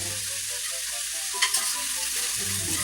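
Onions frying in a pan for smothered pork chops, a dense, even sizzle held close and steady, with a single brief clink partway through.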